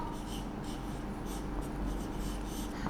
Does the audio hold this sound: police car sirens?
no